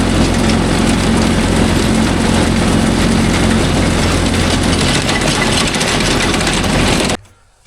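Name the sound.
Mahindra Yuvo Tech Plus 585 4WD tractor engine running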